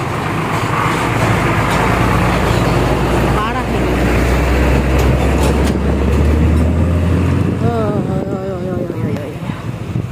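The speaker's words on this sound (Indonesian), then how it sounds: "Soalnya tinggal lewat mobil gede-gede ini gitu." Large vehicles rumble past on a village road with deep engine drone and tyre noise, loud and close, with a horn-like warble near the end while people talk over it.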